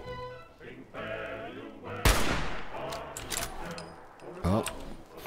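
Gunfire in the video game Fallout 4, a sharp loud shot with a decaying echo followed by scattered further shots and clatter amid game ambience.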